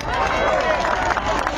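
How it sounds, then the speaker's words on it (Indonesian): Dense, steady applause from a crowd at a meeting about forest function, a continuous wash of many hands clapping with faint murmuring in the background. "tepuk tangan buat kita semua"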